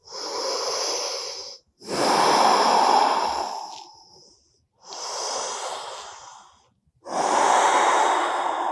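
Slow, deep breathing during a yoga pyramid pose in a morning hatha flow: long, airy inhales and exhales alternate with short pauses, close and clear, about four breaths with no talk.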